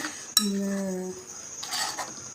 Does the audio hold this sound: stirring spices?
yes